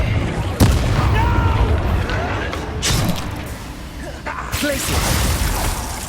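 Bombarda blasting spell from the video game Hogwarts Legacy: a few loud, booming bursts spaced a couple of seconds apart over a dense, rumbling game soundscape, with voices partly audible in the mix.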